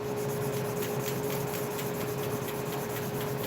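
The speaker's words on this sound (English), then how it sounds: "So I'm sanding it right now with 600 grit" A horn guitar nut for a custom guitar is sanded with 600 grit sandpaper, giving a steady, even rasping rub with quick repeated strokes, close up and with no other sounds.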